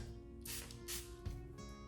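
Makeup setting spray misted onto a loaded makeup brush during a drugstore full-face routine: three short, soft hissing bursts in quick succession, close by, over a faint steady background hum.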